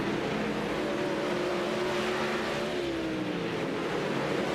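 360 sprint race cars race at Lernerville, a continuous loud engine roar with droning, shifting pitch as the cars run the track, no pauses throughout.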